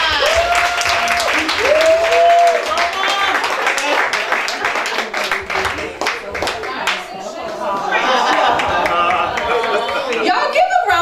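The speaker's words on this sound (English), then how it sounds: "let's give a round of applause for none other than Ambassador Dr. Chyna Bethley." Audience applause and clapping fill the room at a Pillow Talk 2024 event honoring Ambassador Dr. Chyna Bethley. The applause is loud and continuous, mixed with cheering voices and chatter.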